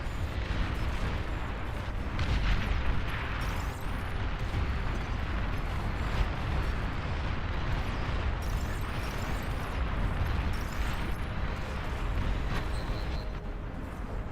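Long-range plasma cannon fire in the Beyond All Reason strategy game: a dense, steady rumble of booms and bursts, with repeated impacts layered over a continuous low roar.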